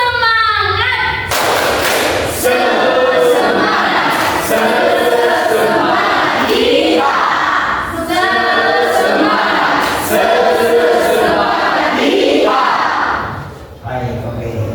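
A group at a teacher-training session performs a rhythmic spirit clap, with loud, close bursts of synchronized clapping in repeated patterns mixed with voices chanting and shouting together.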